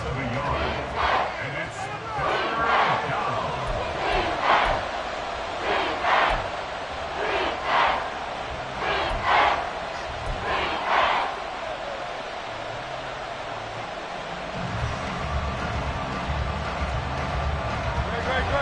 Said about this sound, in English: this crowd is making an impact right now